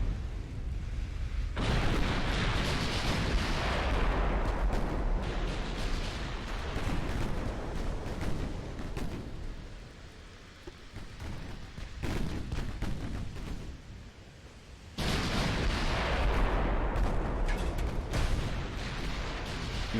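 Heavy naval gunfire from 18-inch battleship guns in the game Ultimate Admiral: Dreadnoughts, with loud booming salvos and rumbling blasts throughout, easing briefly midway before another powerful volley erupts near the end.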